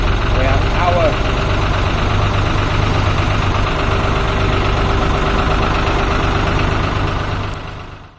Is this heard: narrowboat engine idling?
yes